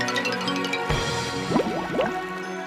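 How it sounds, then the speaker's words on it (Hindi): A woodcutter's axe drops into a river with a splash, followed by gurgling, dripping water and bubbling, moderately loud and close, with no talking. "और जानबूझकर कुल्हाड़ी को नदी में गिरा दिया।"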